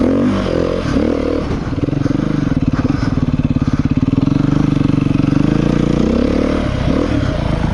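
A 2017 Beta 390RR dirt bike ridden off-road, its engine droning loud and close with rapid pulsing firing, rising as it accelerates, along with clattering over rough ground.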